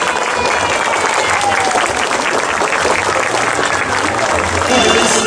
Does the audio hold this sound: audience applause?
yes